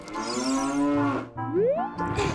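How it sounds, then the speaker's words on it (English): A cow from The Legend of Zelda: Ocarina of Time moos twice up close, a long drawn-out low call followed by a shorter one that rises in pitch, with no talking over it. "Cow goes moo."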